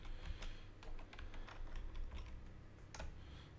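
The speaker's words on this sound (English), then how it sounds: "all you do is start typing the name of that product" Fingers tap out quick bursts of keystrokes on a computer keyboard, close and crisp, with brief pauses between clusters of clicks and a low background hum.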